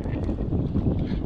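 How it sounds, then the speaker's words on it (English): Wind buffets the microphone aboard a fishing boat out for fluke and striped bass, making a steady, rough low rumble with no pauses. "Definitely windy right here."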